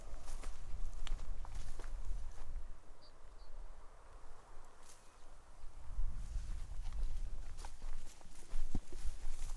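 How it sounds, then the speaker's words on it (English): Footsteps crunch along outdoors while walking straight into the wind, steady low wind rumble buffeting throughout, with louder steps near the end. "we'll just have a little walk around, see how it fares. So straight into the wind."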